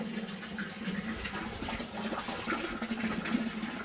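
Water flows steadily into a 2-liter beaker during a flow-rate test, a continuous rushing gush with no pauses and no talk.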